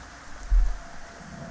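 Steady rain falls in the video game Fallout 4, a brief, even wash of patter with a slight low thump near the middle and no voices.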